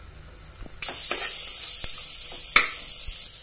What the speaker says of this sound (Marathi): टोमॅटो ही घालते,